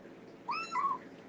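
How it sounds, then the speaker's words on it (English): A house cat gives a single clear, rising-then-falling meow, close and fairly loud, over quiet room background. "You are a very vocal cat, you know that?"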